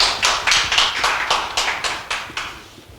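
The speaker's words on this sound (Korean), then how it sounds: "박수 부탁드립니다" Lecture audience at a university graduate school talk applauds, a burst of clapping from many hands at moderate distance, steady at first and gradually fading out.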